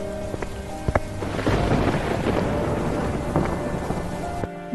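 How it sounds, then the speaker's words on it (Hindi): A thunderstorm with strong wind and heavy rain: a dense, continuous wash of rain carries a deep rumble of thunder that builds through the middle and then eases away. "तभी आसमान में बहुत तेज हवाएं चलने लगती हैं और बिजली के साथ बारिश भी शुरू हो जाती है।"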